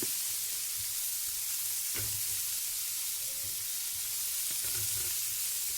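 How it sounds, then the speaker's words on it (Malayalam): Cauliflower and spices sautéing in a hot pan give off a loud, steady sizzle, broken by a few scraping stirs of a spoon, with no voices. "എല്ലാം കൂടി ചേർത്ത് ഒന്ന് വഴറ്റി ഇനിയും കോളിഫ്ലവറും കൂടി മിക്സ് ചെയ്യാം."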